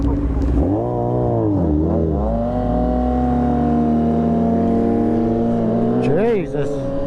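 A Honda CBX 1000 motorcycle engine revs while being ridden, loud and close, its pitch climbing and falling through several throttle blips before settling into a steady drone, with another quick rev near the end.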